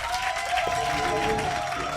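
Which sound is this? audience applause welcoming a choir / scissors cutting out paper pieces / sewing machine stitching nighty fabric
audience applause welcoming a choir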